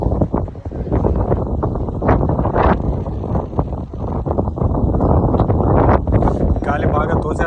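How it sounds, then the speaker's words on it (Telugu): Strong wind buffets the microphone at the top of a lighthouse in the rain, a loud continuous rumbling roar with gusty surges throughout, while a person talks over it. "గాలి బాగా తోసేస్తుంది."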